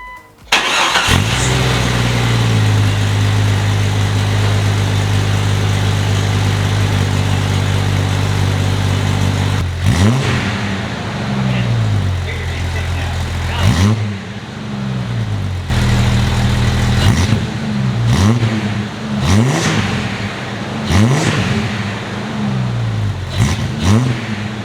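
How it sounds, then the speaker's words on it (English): A Jeep XJ engine with new intake and quieter exhaust idles steadily with a deep rumble, then is revved repeatedly in sharp bursts, each rising and falling quickly, loud and close throughout. "you can actually hear the intake now with the quieter exhaust"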